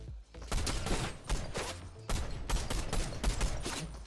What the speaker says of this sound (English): The new gun is a version of the DMR.